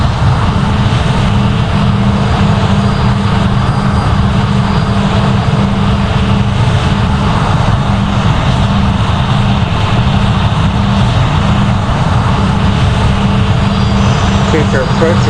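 Airbus A320 climbing out after takeoff in a flight simulator game, a loud, constant engine drone with a steady hum and broadband roar throughout, unbroken and close.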